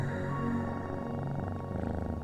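A voice imitates a cat's purr, a steady low rumbling vibration held for a couple of seconds, close and fairly quiet.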